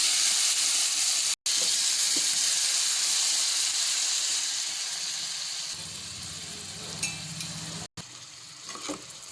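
Chicken and turmeric frying in hot oil in a home kitchen pan, a steady loud sizzling hiss that softens partway through, with a couple of brief clanks of stirring near the end.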